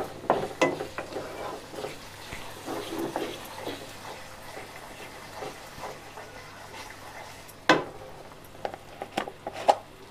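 Ground tomato, garlic and ginger fry with browned onions in a pan, giving a soft steady sizzle with occasional scraping stirs and a louder clatter near the end.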